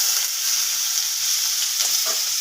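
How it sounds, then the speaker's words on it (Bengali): A dried red chilli tempers in hot oil, a bright, steady close sizzle with a couple of light stirring scrapes near the end. "আমি এর মধ্যে একটা শুকনো লঙ্কা ফোড়ন দিয়ে দেব।"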